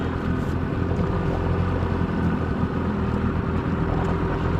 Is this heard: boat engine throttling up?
yes